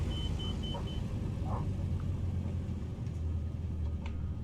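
Steady low engine drone of an Aviat Husky A-1C light aircraft in Microsoft Flight Simulator, held at a reduced throttle setting, with a few faint beeps and clicks over the rumble.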